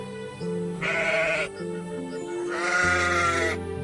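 A black, sturdy long-horned billy goat bleats twice in a forest, long wavering cries heard up close, with a short pause between them.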